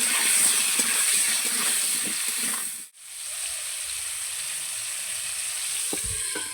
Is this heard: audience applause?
no